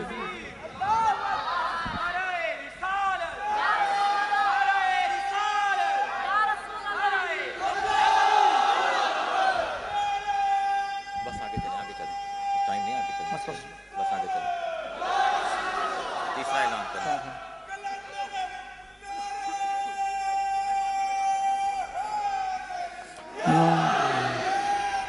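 At a prize distribution gathering, a crowd shouts slogans in loud, rhythmic waves, a lead voice calling and many voices roaring back in several bursts separated by brief pauses.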